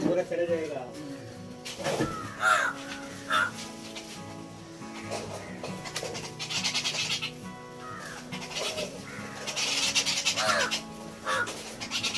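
Crows and other birds caw and squabble noisily as they crowd around food thrown out near a village tea stall, harsh calls rising and falling under someone talking.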